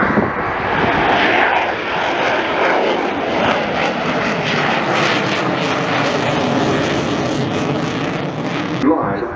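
A US Air Force F-15C Eagle single-seat fighter jet, a 1979 airframe, roaring past at an air show, a loud sustained broadband jet rush that swells and fades, with a commentator talking over it.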